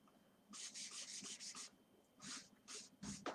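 Acrylic paint being rubbed off a painting of a 1957 Buick Special, heard as a series of quick, close, dry scrubbing strokes in short bursts with brief pauses between them, quiet and without voices.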